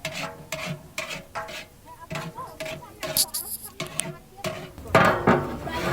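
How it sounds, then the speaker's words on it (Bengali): Beef for biryani being stirred in a large pot for a 40–50 person picnic meal, a steady series of scraping, clanking strokes of the spoon against the metal with a light sizzle underneath. "এখন ভালোভাবে নেড়ে দেওয়া হচ্ছে"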